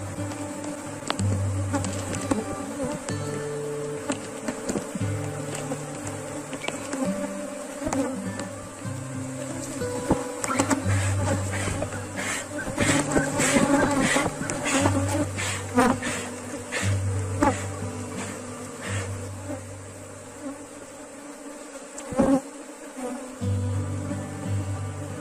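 A honeybee swarm buzzes steadily at an apiary hive, a dense close-up drone of many wings that holds for the whole stretch, with a brief louder surge near the end and no talking.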